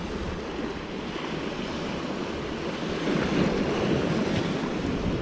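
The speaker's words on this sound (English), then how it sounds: "Wind's in our face, which is fine." Wind blows steadily on a coast while fishing for wrasse from sand, with loud broadband rushing and surf-like roar that swells louder partway through and covers everything.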